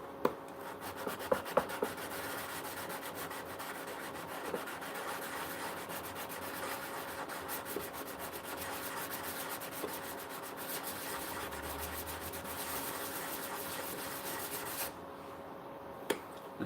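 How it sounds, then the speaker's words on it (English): Blade edge being deburred with steady, faint rubbing strokes and a few light clicks, continuous and close, ending with a brief quieter moment. "Just get the burr off it."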